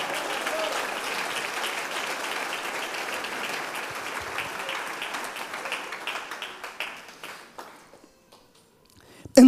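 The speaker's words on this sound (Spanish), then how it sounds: "Denle ese aplauso al Señor." Church congregation applauding loudly and densely, the clapping thinning into scattered claps and fading near the end before a brief sharp sound.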